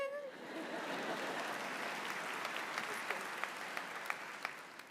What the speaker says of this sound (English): Okay, you can clap right there.